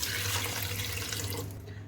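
Tap water runs steadily into a pot of spiced mince with garlic, onion and tomato being cooked in a kitchen, a continuous close splashing pour that tapers off near the end.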